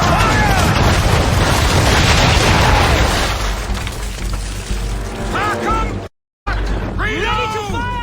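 Naval guns firing a broadside from a ship, heard as loud booming bursts in quick succession with rushing, splashing water noise and whistling tones afterward, and a brief dropout in between.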